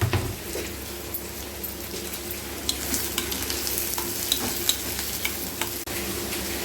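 Finely chopped large onions sautéing in a pan for kuzhambu, a steady close sizzle with scraping stir strokes and small crackles throughout, sounding without speech.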